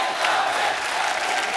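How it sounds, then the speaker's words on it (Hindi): On a comedy talk show, the studio audience fills the space with a dense, steady roar of applause, cheering and whoops that holds loud and unbroken throughout. "John और सोनाक्षी के लिए जोरदार तालियां"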